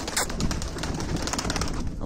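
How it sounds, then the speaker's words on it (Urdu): A flock of fancy hobby pigeons of several colour varieties coos in a loud, close, continuous chorus of overlapping throaty calls. "یہ سارے جو ہے شوقی کبوتر ہیں"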